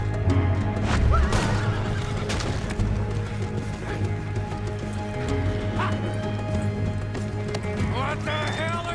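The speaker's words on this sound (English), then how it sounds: "See the horses?" Horses in the video game Red Dead Redemption 2 neigh and whinny over clip-clopping hooves, with game music and ambient sound underneath. Several whinnies stand out at moderate loudness throughout.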